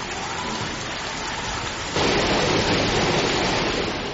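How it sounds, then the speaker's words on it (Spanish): Steady rain falls in Fondón, an Alpujarra village in Almería, a dense even hiss with no talk that grows noticeably louder halfway through. "han recibido como una auténtica bendición de Dios una lluvia que no se veía desde hacía más de medio año"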